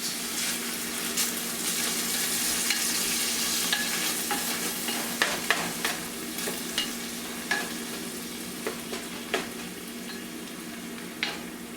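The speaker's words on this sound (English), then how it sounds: "put a little bit of milk and let it reduce" Bolognese sauce with a splash of milk bubbles and sizzles steadily in a pot, a continuous close hiss with scattered small pops and stirring clicks throughout.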